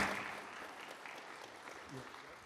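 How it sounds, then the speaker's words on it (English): A small audience at a business talk event claps for a guest speaker, a brief, fairly quiet patter of hands that fades gradually over a couple of seconds. "Big round of applause for Tim."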